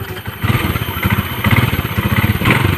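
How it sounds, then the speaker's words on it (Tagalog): A motorcycle engine runs close by with a steady, throbbing low pulse and some clatter, holding fairly loud and even throughout. "Putingog lagi ng motor mo."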